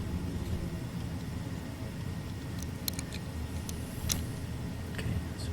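A household furnace and hot water heater run in a basement, a steady low rumbling hum of machinery with faint ticks and clicks scattered over it.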